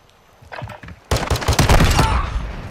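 A pistol in a modern military shooter fires a few loud, close shots, then a dense, rapid volley of overlapping gunfire rings out and continues to the end.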